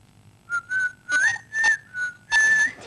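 A person whistles a simple wavering tune in several short bursts with brief pauses, close and clear, with no talking.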